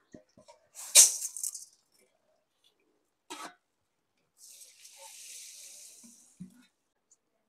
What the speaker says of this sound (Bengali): এবার আমি মসুরি ধোবো।